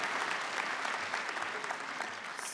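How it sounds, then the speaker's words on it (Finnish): An audience at a stand-up comedy show claps in a sustained, dense burst of applause, loud and steady throughout. "anna näille kunnon aplodit"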